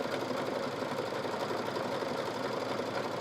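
An embroidery sewing machine stitches steadily at a quilting and sewing shop, a continuous fast mechanical whir and patter at even loudness with no talk over it.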